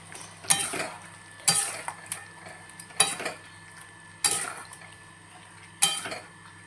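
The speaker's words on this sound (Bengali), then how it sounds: "এবার লাল লঙ্কার গুঁড়োটা দিয়ে এবার ভালো করে নাড়াচাড়া করে নেব।" Spicy mutton curry is stirred in a pan after red chili powder goes in: five separate scraping strokes of the spatula with metallic clinks over a faint sizzle.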